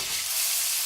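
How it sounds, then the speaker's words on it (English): A tuna steak sears in a hot cast iron pan, giving a loud, steady, close sizzle of bright hissing crackle that holds unbroken with no talk over it. "So, I'm going to put on our tuna steak."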